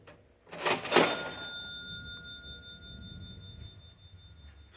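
Antique mechanical cash register operated once: a sharp mechanical clatter followed by a bright bell chime that rings on and slowly fades, heard alone in a quiet room.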